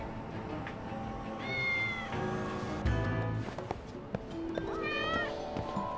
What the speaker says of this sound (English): Cats! They're everywhere!